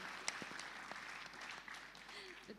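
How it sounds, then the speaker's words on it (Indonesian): Faint applause from a talk show audience, a soft scattered patter of clapping under a quiet room with a few sharper individual claps. "Tepuk tangan dong."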